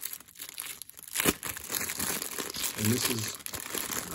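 Wrapper of a 1991 Topps jumbo baseball card pack crinkles and tears open in close, loud bursts, with someone talking over the rustling.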